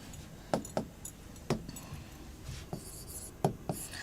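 Chalk or marker writing on a board during a Hindi-language science lesson on genetics terminology, with several sharp tapping strokes and scratchy scrawls spread across the span, fairly close, no talking.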